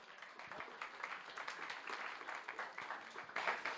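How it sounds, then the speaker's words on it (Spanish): Audience applause at a ceremony honoring a lawyer, a spread of hand clapping from a crowd, fairly quiet and distant, swelling briefly near the end. "Le brindamos un fuerte aplauso,"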